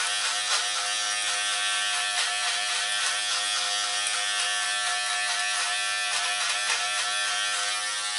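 Electric hair clippers fitted with a number 1 guard buzz steadily and loudly up close while cutting hair, an unbroken motor drone with slight fluctuations as the blade moves through the hair.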